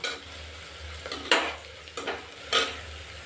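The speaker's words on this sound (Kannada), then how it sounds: "ಅದಕ್ಕೆ ಚೆನ್ನಾಗಿ ಫ್ರೈ ಮಾಡಬೇಕು ಆಯಿಲಲ್ಲಿ ನೋಡಿ ಮೆಂತ್ಯ ಸೊಪ್ಪಿದೆಯಲ್ಲ ಅದು ಕಲರ್ ಚೇಂಜ್ ಆಗಬೇಕು" Fenugreek leaves frying in oil for methi pulao, a steady close sizzle broken by several sharp stirring scrapes of a utensil against the pan.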